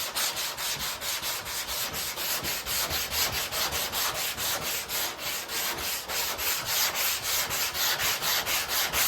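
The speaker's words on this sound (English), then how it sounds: "And this is only like 180 grit sandpaper, not real coarse, just enough to kind of take some of the primer off." Hand sanding of primer on a car body panel with 180 grit sandpaper during dent repair, a close, steady rhythmic scratching of rapid back-and-forth strokes repeating evenly throughout with no talk.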